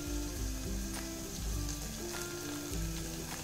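Homemade masala and biryani masala frying in a pan for egg biryani give a steady, dense sizzle, close and loud, with faint stirring scrapes and no talk over it.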